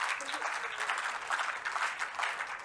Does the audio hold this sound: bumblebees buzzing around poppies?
no